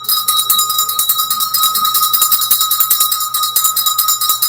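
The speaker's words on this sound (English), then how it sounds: "first we're going to ring the bell." A small bell rings rapidly and continuously with a bright, sustained metallic shimmer, loud and close, with no voices.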